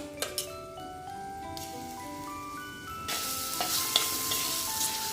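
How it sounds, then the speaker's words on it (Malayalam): Ginger and green chili sizzling in hot oil as spice masala is added and stirred for a fish curry, a steady close frying hiss that grows louder and brighter midway, with spoon scrapes and no talk. "ഇനി ഇഞ്ചിയും മുളകും പാകത്തിന് മൂത്ത് വന്നിട്ടുണ്ട് ഇനി ഇതിലേക്ക് ഈ മസാല ചേർത്ത് കൊടുക്കാം"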